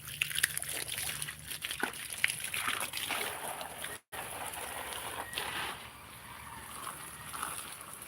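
Water sloshing and splashing in uneven bursts while garden plants are watered in the early morning, fairly close, with a brief cut midway and softer trickling toward the end.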